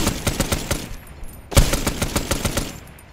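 Rapid automatic gunfire in the video game ArmA 3, aimed at trees in a jungle, with steady bursts of shots throughout and one sharp, louder report near the middle.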